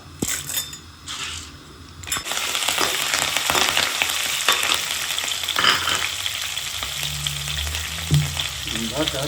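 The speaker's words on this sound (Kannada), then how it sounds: "ಒಂದು ಸ್ವಲ್ಪ ಫ್ರೈ ಆಗಲಿ." Peanuts and chana dal sizzle and crackle in hot oil in a pan, a close, steady frying hiss with occasional scrapes and clinks of stirring.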